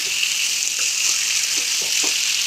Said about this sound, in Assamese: 5-10 মিনিট মই হাই ফ্লেমত ভাজি ৰাখিম